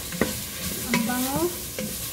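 Garlic and onion sauté in a pan with a steady close sizzle, while a utensil scrapes and stirs through them in a few quick strokes.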